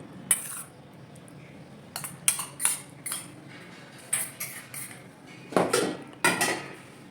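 Chutney and fish curry being served onto plates at home, with intermittent clinks and scrapes of a metal spoon against dishes in short bursts over a low room hiss, close and clear, with nobody speaking.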